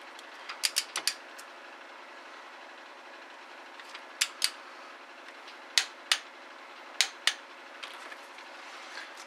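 A torque wrench tightening an injector on a Cummins engine gives several sharp ratcheting clicks in small clusters, close and crisp over a steady low background hum.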